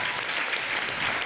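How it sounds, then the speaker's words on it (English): A school thanksgiving gathering claps in a short, steady burst of many hands applauding together, dense and even from start to finish. "let's just clap for him for that act"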